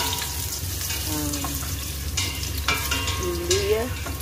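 Garlic, onion and pork hock are sautéed in a pan with a steady sizzle, occasional utensil scrapes and clinks, and faint background voices.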